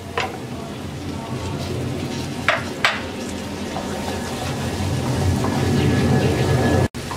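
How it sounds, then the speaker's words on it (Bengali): Blended paste of two tomatoes, four green chilies and two onions sizzles steadily in a pan as it is fried, a continuous close crackle and hiss with a few sharper spatters. "এবার এই মশলাটাকে আমরা 2-3 মিনিট ভুনে নেব"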